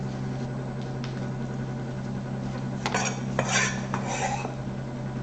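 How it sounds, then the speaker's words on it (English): Bread fries in a pan on a kitchen stove, with a steady hiss over a constant low hum, then a few clinks and scrapes of cookware partway through. "Frying some bread."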